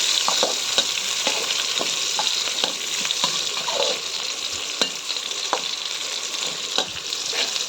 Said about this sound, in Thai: พริกกับกระเทียมลงไปผัดให้หอมเลยพี่น้อง